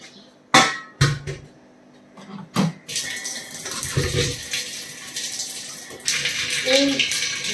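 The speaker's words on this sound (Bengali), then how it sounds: "তারপরে চালটা দেবো ধুয়ে।" Water running and splashing in a pot as rice is rinsed for cooking rice in a kitchen, with sharp clinks of a metal pot and a steady rushing pour growing louder near the end.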